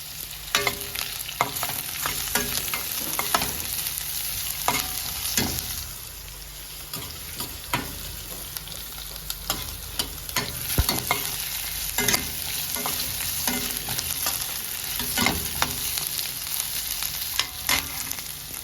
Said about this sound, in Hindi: जैसे ही आपको लगे कि वेजिस कुक हो गए हैं